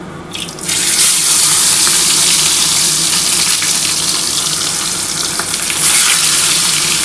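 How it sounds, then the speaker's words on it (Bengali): Pomfret fish pieces frying in hot oil, a loud, dense, steady sizzle that jumps up in the first second and continues close and unbroken with no talking. "আমার কিন্তু তেলটা গরম হয়ে গেছে। এবার আমি কিন্তু পমফ্রেট মাছগুলো ভেজে নিচ্ছি।"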